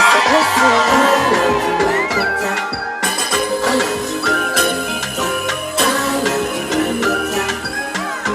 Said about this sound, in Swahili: Ina mama piga vigelegele.